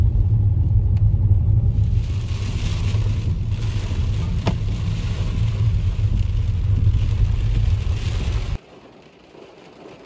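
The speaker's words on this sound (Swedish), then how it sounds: "Nu sätter jag mig i bilen för att åka till husvagnen." Interior rumble of a car engine driving on a rainy, stormy day, a loud continuous low drone with road and wind noise that suddenly drops away near the end.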